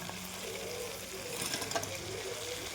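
Cauliflower florets fry in a pan with a soft, continuous sizzle and faint stirring scrapes, steady and close throughout.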